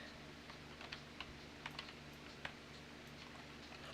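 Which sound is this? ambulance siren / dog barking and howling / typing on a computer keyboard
typing on a computer keyboard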